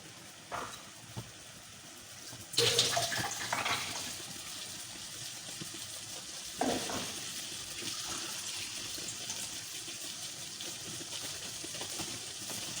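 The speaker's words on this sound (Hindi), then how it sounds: "हल्का सा पानी डाल देते हैं इसमें।" Water poured into a pan of bhindi masala, a sudden splash and hiss that settles into a softer simmering wash, with a second smaller splash a few seconds later and no talking.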